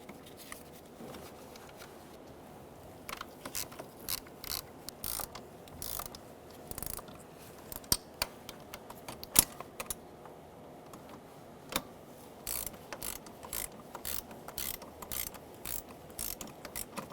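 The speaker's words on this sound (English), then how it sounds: "I'm going to get them a little tight first, and then I'm going to move on" A ratchet tightens the intake manifold bolts on a 2000-2007 Ford Taurus 3.0L V6, producing rapid clicking bursts in repeated short runs with brief pauses, close and fairly quiet.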